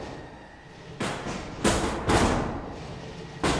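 Heavy impacts from combat robots in the Robot Rumble 2 BattleBots game, about four loud broadband thuds and crashes spaced irregularly over a low background hum, the last landing near the end.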